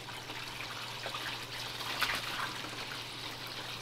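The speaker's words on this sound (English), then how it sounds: "So that's the bowl filter running. That's the spillway running," Water running through a garden pond's bowl filter and over a spillway, a faint, steady trickle and splash under a low electrical hum, continuous with a slight swell near the middle.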